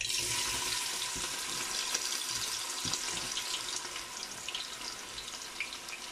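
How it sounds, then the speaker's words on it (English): Chopped onions poured into hot oil for a Nigerian stew, giving a bright, continuous sizzle and hiss that stays steady and close throughout, with light crackles scattered through it. "In your hot oil, then we just pour our onions."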